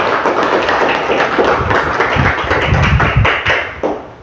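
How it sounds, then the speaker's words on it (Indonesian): Classroom of students clapping for group presentations, a dense, loud burst of close hand claps lasting several seconds with a few sharper taps near the end. "tepuk tangan untuk semua"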